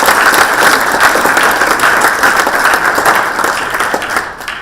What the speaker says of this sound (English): if you could join me right now in a big round of applause and thanking them for taking the time